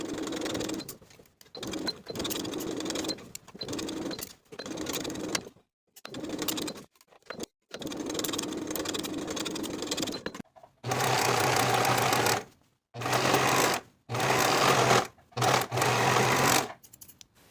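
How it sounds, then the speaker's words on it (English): A home sewing machine stitches a dress sleeve into place, running in several bursts of steady whirring with short pauses between, close and clear. "Sew the sleeve in place from one outer edge of the sleeve all the way across the top to the opposite outer edge"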